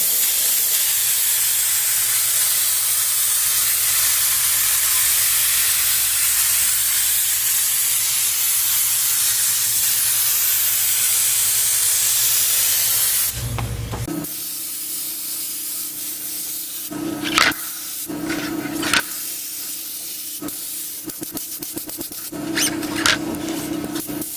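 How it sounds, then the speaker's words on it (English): A loud, continuous hiss of aerosol contact cement spraying onto a VW Beetle door panel runs for about thirteen seconds, followed by several shorter spurts with quiet pauses between. "it's contact cement made by Wellwood. So we'll start spraying."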